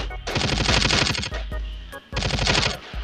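Automatic weapon fire in the mobile shooter Special Forces Group 3, two loud, close bursts of rapid rhythmic shots separated by a short pause.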